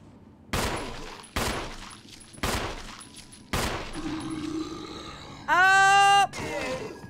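Gunfire in the Resident Evil 1 video game: four sharp, loud shots spaced roughly a second apart, followed by a growling creature roar and a short electronic tone.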